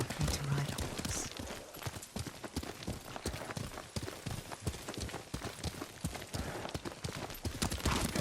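Rapid rhythmic hoofbeats of a horse at a steady gait in Ghost of Tsushima, continuous and busy, with voices talking over the clatter.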